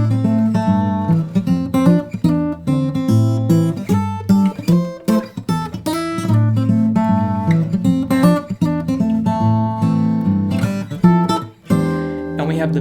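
Solo fingerstyle acoustic guitar plays a song's chorus, a descending bass line under plucked chord stabs in a steady swinging rhythm, close and clear with no voice over it.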